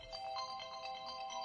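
A mobile phone ringtone plays for an incoming call, a steady repeating electronic melody with a bright tone, fairly close and clear with no talking over it.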